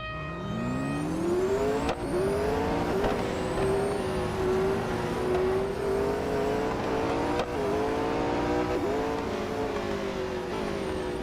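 Several race cars in an eight-car multiplayer race in the mobile game Real Racing 3, engines droning steadily and loudly throughout with rising and falling revs, a few sharp gear-change dips, and no talking.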